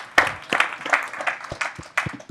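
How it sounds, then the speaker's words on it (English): An audience gives a round of applause at a talk, with dense clapping building into a steady burst of many hands, fairly close and lively for about two seconds. "I want to start by giving all of you a round of applause for being here today"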